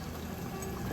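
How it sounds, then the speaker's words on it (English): Brief, close pour of olive oil into a cooking pot, a soft continuous liquid stream lasting about a second. "Put olive oil."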